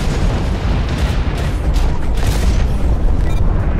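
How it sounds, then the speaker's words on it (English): TDW rocket blast in the game Hawken, a sustained heavy rumbling boom with crackling bursts, loud and filling the whole stretch without speech. "You know, when these TDW rockets hit sometimes, it's actually quite nice."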